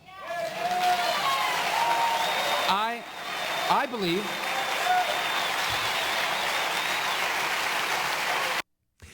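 A large crowd at a political speech breaks into sustained, loud applause and cheering that fills the space, fading away near the end.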